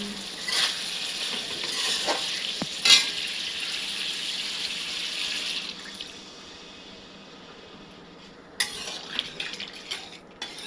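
Potatoes and pointed gourd frying in oil in a large wok hiss steadily, with a brief clatter of utensils, before the sizzle drops away and softens, then a splash and fresh bubbling follow as water is poured in.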